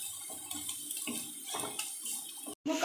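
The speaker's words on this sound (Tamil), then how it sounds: "அது பாருங்கள் தண்ணி விழுது பாருங்கள்" Water runs and splashes steadily in a kitchen while snake gourd puttu is cooked, close by with no talk, breaking off briefly near the end before resuming.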